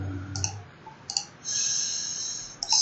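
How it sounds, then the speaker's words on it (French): Computer mouse clicks while editing in Adobe Premiere Pro, a few short crisp clicks close up, separated by brief pauses, with a sustained bright electronic tone partway through. "Donc on fait clic droit, copie."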